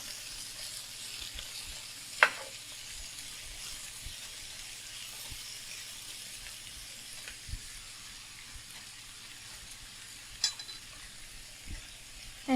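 Tofu pieces shallow-fry in a pan of oil for jiachang tofu, a soft, steady hissing sizzle held at low level for a long stretch, broken by a few isolated clicks and taps, no voices.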